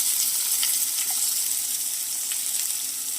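Red onions and garlic frying in a pan for a Kerala horse gram stir-fry, a steady bright sizzle throughout with faint stirring scrapes, close and even in loudness.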